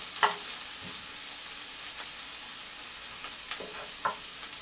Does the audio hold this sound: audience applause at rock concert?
no